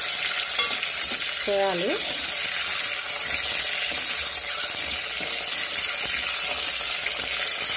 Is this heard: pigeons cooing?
no